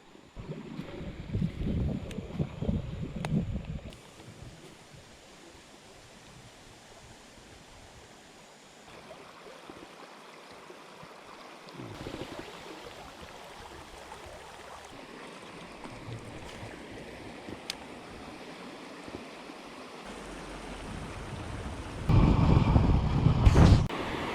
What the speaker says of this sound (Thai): น้ำเยอะด้วย น้ำมันแรงขึ้นครับ